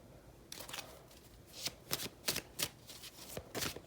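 Close, fairly quiet riffle of a tarot deck being shuffled, with several crisp bursts of cards snapping together in an uneven rhythm and brief pauses between them.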